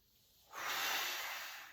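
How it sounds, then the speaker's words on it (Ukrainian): Breathing during a leg and foot stretching exercise: quiet at first, then one long, steady, airy breath that begins about halfway through and fades slowly, heard close up and alone. "І тут же зробили видих. Вдих."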